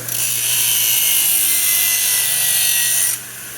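A Norton RazorStar 10-inch expander wheel grinding a 10 mm thick shoe, a loud, steady, bright abrasive roar held for about three seconds before dropping away abruptly.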